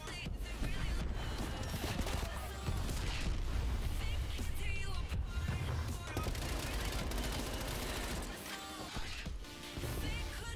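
Gunfire in Black Ops Cold War on the Nuketown map, dense rapid volleys and impacts packed together, loud and nearly continuous, with some voice mixed in.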